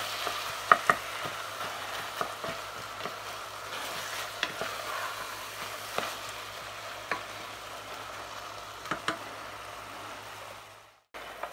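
Salsa sauce sweating over lowered heat in a pan, a soft continuous sizzle with occasional light taps and scrapes of a utensil, no talking, ending in a brief cut to silence.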